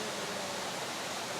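A waterfall at a forgotten resort in Antipolo sends up a steady, dense rush of falling water. The roar is close, even and unbroken, with no voices over it.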